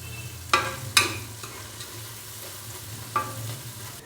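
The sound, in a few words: ginger garlic paste frying in a pan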